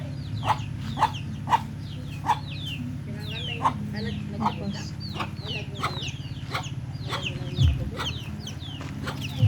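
Chickens cluck repeatedly close by on a morning walk through a rural province, their short calls rising over a steady low rumble of background noise.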